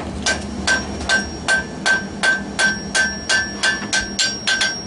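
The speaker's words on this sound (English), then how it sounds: "When I bevel, I come around the outside first." A leather scroll is bevelled with a tool struck by a mallet: a steady series of about a dozen evenly spaced, sharp taps, close and clear with no talking.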